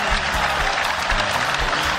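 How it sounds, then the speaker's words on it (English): A stadium crowd at the 13th Africa Games closing ceremony applauds, a dense, continuous wash of clapping and crowd noise heard from within the crowd, with a faint voice underneath. "do give them a round of applause"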